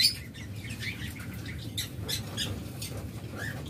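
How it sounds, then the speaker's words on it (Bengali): Birds at a bird farm squawk and chirp in short, scattered calls over a low, constant background hum, several voices overlapping close by. "সেই নতুন খামারের পাখি এগুলো"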